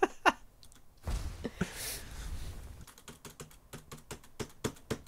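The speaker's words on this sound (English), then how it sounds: "It's really fun hearing just the clank, clank, clank, clank, clank. It's keyboard noises." Rapid clattering computer keyboard typing during a Skyrim game stream, a burst of quick close keystrokes at the start and a steady run of clacks at the end, with a rushing swell of noise in between.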